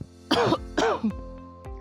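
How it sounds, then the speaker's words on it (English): Two sharp throat-clearing coughs close together, followed by a couple of faint clicks in a quiet room. "It starts with a cough"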